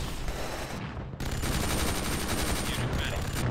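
Rapid machine-gun bursts rattle loud and close during a base attack in a strategy video game, dense volleys of gunfire with a brief lull near the one-second mark before firing resumes.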